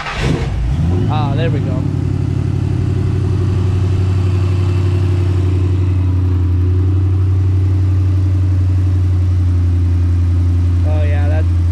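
A Ford Mustang engine, its MAF sensor just refitted, cranks, catches and settles into a steady, loud idle with a deep, even rumble, while people talk briefly over it.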